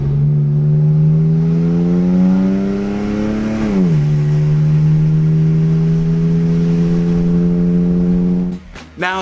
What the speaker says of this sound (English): Here's how it sounds without any kind of corrections.